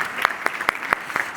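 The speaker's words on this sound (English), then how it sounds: "Can we have a big round of applause for him?" Brief applause from a conference audience at an agri-food session, with a handful of distinct, fairly regular claps over a soft background wash.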